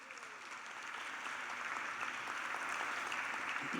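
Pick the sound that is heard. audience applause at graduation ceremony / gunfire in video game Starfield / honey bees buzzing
audience applause at graduation ceremony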